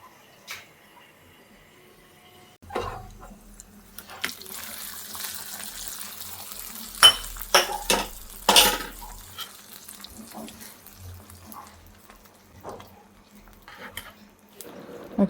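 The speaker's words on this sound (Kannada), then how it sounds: "ಇವಾಗ ಇಷ್ಟು ಪಾತ್ರೆಗಳಿದ್ದಾವೆ, ತೊಳಿಬೇಕು." Dishes and pots being washed under a running kitchen tap: quiet at first, then bursts of gushing water with clinks and scrubbing, loudest in the middle and tapering off.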